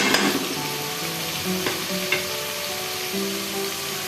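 Tomatoes and spices sizzling steadily in hot oil for a Pakistani kadhi pakora masala, a close continuous fry with a few light stirring scrapes and no voices.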